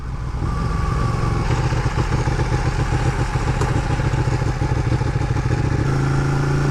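Ducati 1299 Panigale motorcycle engine running steadily and loudly close by, a continuous throaty rumble with mechanical clatter, shifting slightly in tone near the end, with no talk over it.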